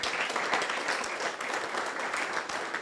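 An audience at an autobiography launch claps for the author's wife, a brief, dense burst of applause heard at a moderate distance.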